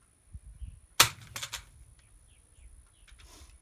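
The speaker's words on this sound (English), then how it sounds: "Drop it from about waist high on this side here." A rifle fitted with a Bushnell TRS-25 scope, unloaded, dropped from about waist height lands in one sharp impact with a short rattle and settling clatter after it, then quiet rustling.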